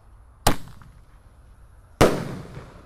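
A 1.2 inch roman candle firework fires twice, about a second and a half apart, each shot a sharp loud pop with a brief rumbling tail.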